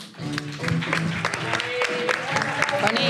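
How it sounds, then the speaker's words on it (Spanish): Studio audience applauding for comedian Tony Moret at a comedy show, a steady wash of clapping with music and voices mixed in underneath. "un fuerte aplauso, uy, que me como el micro, para Tony Moret"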